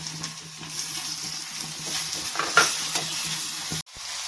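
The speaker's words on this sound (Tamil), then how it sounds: "இப்போ நம்ம தக்காளி போட்டுக்கலாம்." Chopped tomato frying in a pan with curry leaves while a spoon stirs it, a steady sizzle broken by scraping strokes and light clinks, close and fairly quiet.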